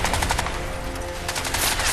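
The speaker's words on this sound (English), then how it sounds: "I do still have the M60." M60 machine gun in the Crysis 2 video game firing a loud sustained burst, rapid rounds blending into a dense continuous roar.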